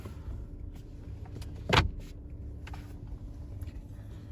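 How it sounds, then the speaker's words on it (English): Electronic glove box in a Cadillac CT6 opening with a short motorized whir and soft thunk, close up, in a quiet cabin with no talk. "And then for the glove box, it is electronic."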